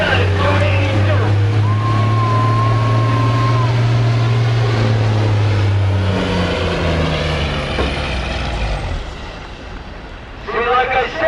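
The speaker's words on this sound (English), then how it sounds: "Tony's turning up that Detroit. He's got it in a real high gear." A Detroit diesel pulling truck at a fair truck pull, held in a high gear and roaring loud and steady at high revs for several seconds before easing off, then surging again at the end.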